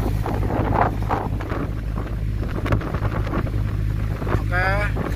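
Strong wind buffets a fishing boat at sea in bad weather with big waves, a continuous loud roar of wind noise on the microphone with engine hum beneath and a brief voice near the end.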